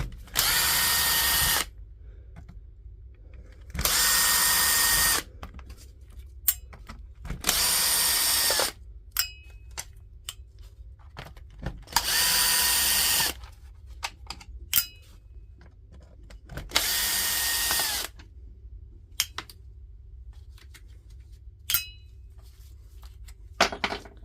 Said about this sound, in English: we'll start by taking out all the screws and take it all apart before we do anything